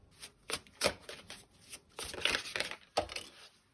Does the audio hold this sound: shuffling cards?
yes